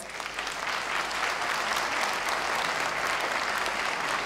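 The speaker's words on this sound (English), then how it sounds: "we may now give the candidates a round of applause" Audience at a 2012 vice presidential debate applauds the candidates in a steady, dense wash of clapping that holds evenly throughout, with no voices over it.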